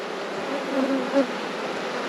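Honey bees buzz steadily around an open beehive during an inspection. The drone is soft and continuous, with a few individual bees passing closer.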